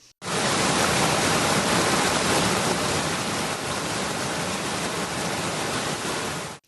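Pushkar Lake in Ajmer overflows after heavy rain, a loud, unbroken roar of rushing water that starts abruptly and fills the whole stretch without voices.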